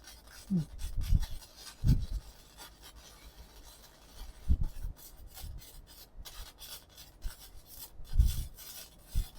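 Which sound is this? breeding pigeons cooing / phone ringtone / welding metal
welding metal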